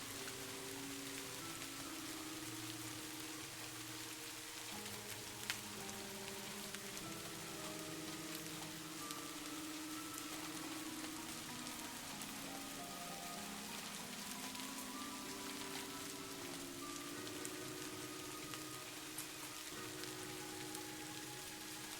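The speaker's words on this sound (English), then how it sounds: "The sound of rain falling is so soothing, like a gentle lullaby." Steady rain falling at night, an even, continuous patter and hiss of drops on surfaces with no voices, moderately quiet and unbroken throughout.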